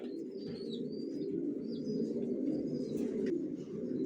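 Racer pigeons coo in a steady low murmur that fills the space continuously, with a few faint higher chirps and a brief flutter of wings nearby.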